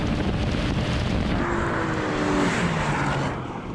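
BMW M4, Mercedes-AMG C63 S and Audi RS5 drag racing on a track, a loud continuous engine roar with rising gear-change tones, strong and close throughout before easing off near the end.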